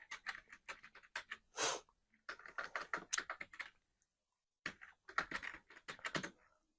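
Someone types a Google search for a National University admission admit card 2026 on a computer keyboard: quick, close bursts of key clicks separated by short pauses, with no voices.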